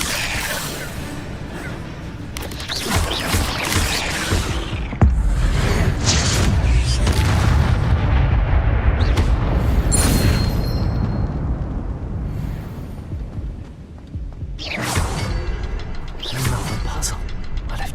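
Incendio fire spell cast in the game Hogwarts Legacy, a loud sustained roaring whoosh of flame amid other spell bursts and clanks, with brief sharp pops at the start and near the end.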